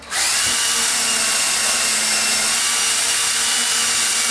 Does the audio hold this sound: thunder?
no